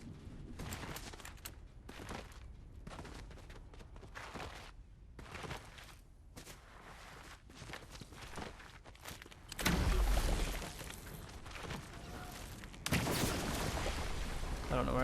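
Bursts of unreleased assault rifle gunfire in the shooter Fortnite, rapid cracking volleys scattered through the scene with a louder, denser stretch near the end, mixed with footsteps and other game effects.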